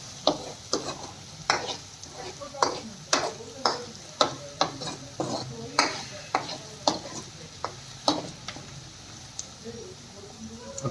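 Chicken curry is stirred in a frying pan, a spoon scraping and knocking in a steady rhythm of sharp taps over a low, constant sizzle, close by.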